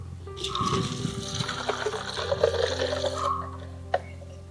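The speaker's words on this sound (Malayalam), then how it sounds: "അതിലേക്ക് നമ്മൾ വെള്ളം ഒഴിക്കുക" Water gushes and splashes steadily into a container of plant fertilizer mix for Adenium bonsai, a rushing pour for several seconds that ends with a brief clink.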